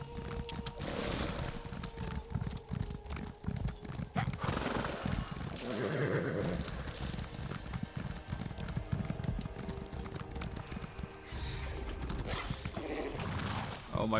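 Horse hooves clip-clop in The Elder Scrolls Online, joined by the odd neigh and some creaking, running steadily through a dense wash of game music and ambience.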